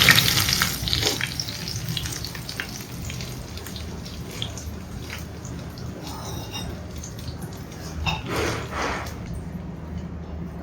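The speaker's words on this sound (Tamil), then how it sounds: "கொஞ்சம் கருவேப்பிலை ஃப்ரை பண்ணிட்டு" Curry leaves fry in hot oil for prawn 65 with a busy crackling sizzle and stirring scrapes, loudest at the start and fairly close, with no talking.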